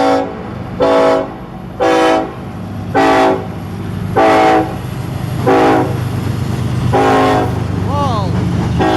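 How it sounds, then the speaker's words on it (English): A Norfolk Southern northbound coal train at Marion, Ohio sounds a loud horn in a series of seven long blasts with short gaps, over a continuous rumble of rolling rail cars, and a voice speaks briefly near the end. "Nice horn show!"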